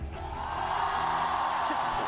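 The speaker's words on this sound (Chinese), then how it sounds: "让我们用最热烈的掌声和尖叫声迎接歌王之战的主持人" A large television studio audience at a singing competition show cheers, whoops and screams in a dense, steady roar that holds loud and continuous throughout.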